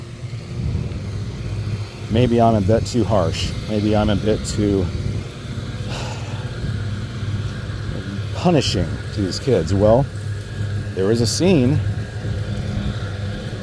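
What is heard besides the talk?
lawnmower running in the background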